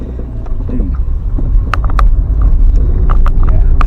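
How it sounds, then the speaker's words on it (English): A Rover 25iL with a K-series engine pulls away after standing idle. A low, steady engine rumble sits close by, with a few sharp clicks and knocks scattered over it. "Right, so the engine sounds a little bit sewing machine-y."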